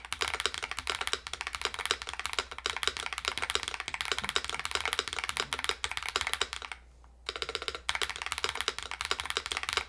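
Continuous rapid typing on a GravaStar V60 Pro mechanical keyboard with GMK keycaps, close and steady clacking keystrokes with one brief pause near the end before resuming.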